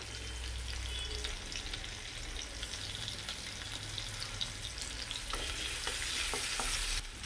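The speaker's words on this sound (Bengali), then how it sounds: "এবার কাঁচা লঙ্কাটা ভালো করে ভাজা হয়ে গেছে, দিয়ে দিব কুচনো আদা।" Green chillies and chopped ginger fry in oil for veg fried rice, a loud, continuous sizzle close up with scraping stirs and a few clicks near the end.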